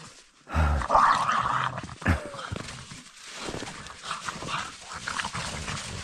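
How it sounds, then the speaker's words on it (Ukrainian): Dogs making excited noises close by, a short burst of growly vocalizing followed by quieter scuffling and movement. "А собаки радіють"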